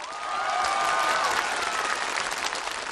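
A live audience at a comedy sketch breaks into sustained applause, a full, even wash of clapping from many hands that swells quickly and holds for about three seconds.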